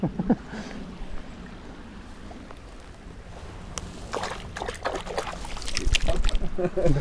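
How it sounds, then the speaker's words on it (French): Hands rinsed in a river while trout fishing, water sloshing and trickling close by, getting louder toward the end, over steady flowing-stream noise. "Je vais me rincer les mains."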